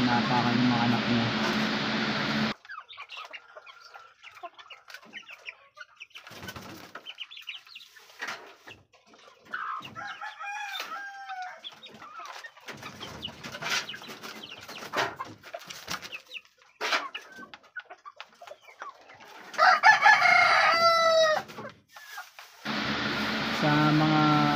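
A backyard mother hen with her chicks clucks and peeps softly in short bursts, while a person talks over them for much of the time.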